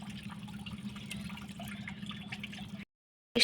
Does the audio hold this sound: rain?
no